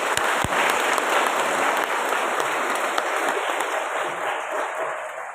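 A church congregation breaks into dense, loud applause during a Eucharist celebration at a parish, sustained clapping that slowly thins and fades, with a few sharp claps at the start.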